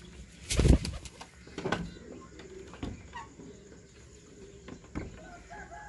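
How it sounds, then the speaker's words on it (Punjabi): Pigeons at a pigeon flying competition in Punjab, Pakistan, with soft cooing and scattered fluttering sounds close by, a few sharper bursts early on, and faint background noise. "ਨਵਾਂ ਕਬੂਤਰ"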